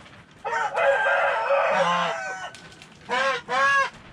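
A Blue Shamo/Ga Noi rooster crows loudly and close by in a backyard coop with hens, one long crow followed by two shorter bursts of crowing.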